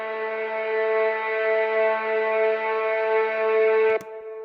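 Terminator-style score synth with echo and no filter movement, a steady, bright, buzzing drone with strong harmonics held at constant loudness, ending abruptly in a click after about four seconds with a faint echo tail.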